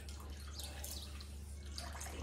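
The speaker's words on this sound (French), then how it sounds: "on va lui ouvrir un petit peu l'eau" A tap opened slightly for a pet cat named Bibi to drink lets out a thin steady trickle of water, close and faint over a low constant hum.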